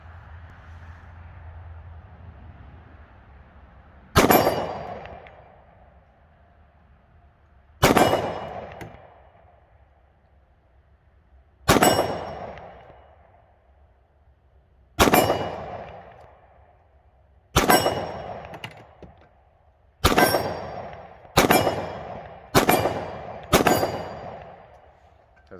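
XDM Elite 10mm pistol firing at a steel target after dark: nine sharp, loud single shots, well spaced at first and then quicker, each ringing out with a brief echoing decay.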